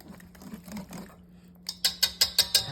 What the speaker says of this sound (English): let's get it all whisked together